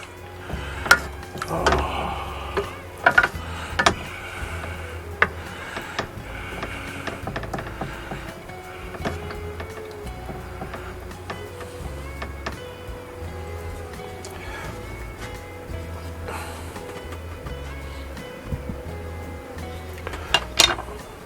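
A spoon stirs creamy mushroom gravy for boneless pork chops in a pan, making irregular scraping clinks and knocks, some sharper and louder, over a low kitchen background without speech.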